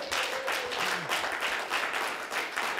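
A church congregation claps in a brief burst of applause at a worship service, a dense steady patter of many hands close by.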